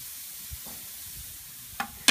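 Pineapple slices on a grill give a faint, steady sizzle and hiss, broken by a couple of brief louder crackles near the end.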